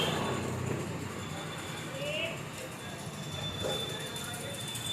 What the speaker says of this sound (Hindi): तिलक नगर मेट्रो स्टेशन से हम लोग मेट्रो में जाएंगे